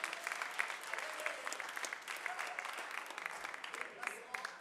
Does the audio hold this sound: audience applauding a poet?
yes